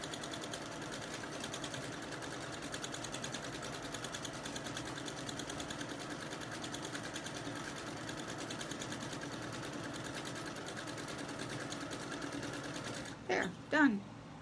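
A sewing machine stitches a quilted table runner in a long, continuous, even run of rapid stitches, followed by a couple of brief sounds near the end.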